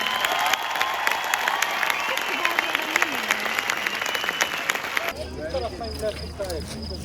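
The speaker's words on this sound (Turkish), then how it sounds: "Türkiye'nin en büyük müzisyenler için bir alkış rica ediyorum." Outdoor concert audience at the ancient city of Ephesus applauding musicians with dense, sustained clapping and some cheering and shouting, the sound shifting abruptly near the end into closer crowd noise and voices.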